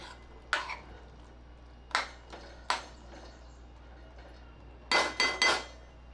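Spoon scraping and clinking against a pan while mushroom masala is mixed, with a few scattered metallic strikes and a quick cluster of clinks near the end, faint and close.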